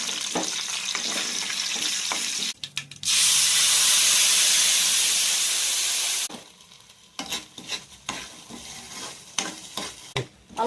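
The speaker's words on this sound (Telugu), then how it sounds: "ఇప్పుడు తాలింపు పెట్టుకుందాం." Curry leaves and cumin tempered in hot oil for ginger chutney burst into a loud, sharp hiss that holds for a few seconds, then drops to crackling pops and light stirring clicks nearby.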